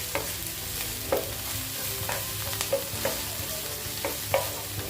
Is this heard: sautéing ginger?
yes